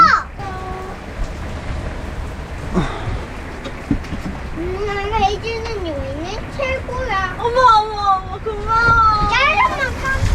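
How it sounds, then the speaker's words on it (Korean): Heavy rain pours down during a camper van trip, a steady hiss running under the whole stretch while children and adults talk and squeal close by. "아까는 비가 또 천천히 오던데막 갑자기 터붓네"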